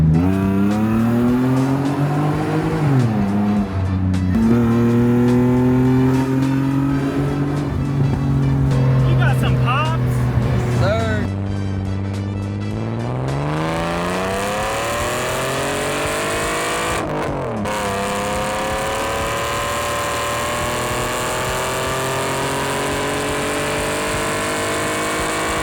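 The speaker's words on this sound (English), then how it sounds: "we also had to give it a tunnel pull." A car with a newly replaced exhaust roars through a tunnel pull, engine pitch climbing repeatedly through hard accelerations and gear shifts, loud and reverberant for about 25 seconds before easing into a lower drone.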